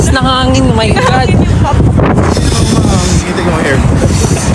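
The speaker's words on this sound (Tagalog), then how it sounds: "Ang lakas ng hangin." Strong wind buffets the microphone with roaring gusts while several people talk over it in Filipino, outdoors in Japan.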